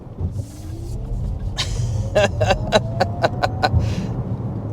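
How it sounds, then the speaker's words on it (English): A 2023 Lexus RZ 450e electric SUV gives off a soft synthetic tone as it accelerates, heard over a steady low road and cabin rumble, with a string of rhythmic clicks near the end. "It does have a little bit of a sound effect when you're accelerating."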